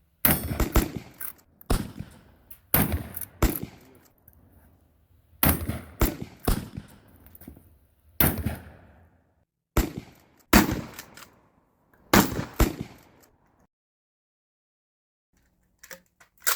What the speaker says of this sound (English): He lit his lantern and uncorked the Winchester. Let him fire filled the night, and a fierce gun battle ensued.